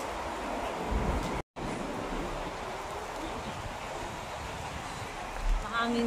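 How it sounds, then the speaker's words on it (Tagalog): Wind blowing outdoors, a steady broadband rush with a brief dropout partway through and a short louder gust near the end; no speech is clear over it. "Mahangin sa labas."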